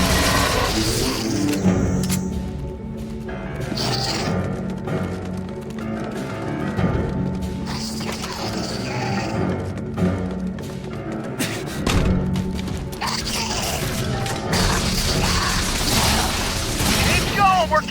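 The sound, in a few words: explosive charges detonating in The Bureau: XCOM Declassified video game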